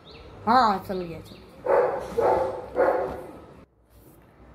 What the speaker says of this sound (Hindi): अबे कुत्ता भौंक रहा है यार बाहर